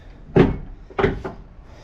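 Spring-loaded door on a 1992 Chevy C1500 pickup, swinging and thudding shut twice in close succession, each a short loud knock against a quiet background.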